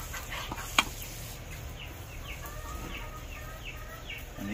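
Chickens and big hens cluck softly at a backyard water station, a series of short repeated calls over steady outdoor background noise, with one sharp click near the start.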